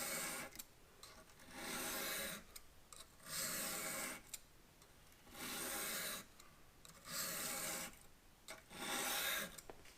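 A knife blade is drawn across an oiled whetstone in steady rasping strokes, five or six long scraping passes with short pauses between them, close and clear with no talking.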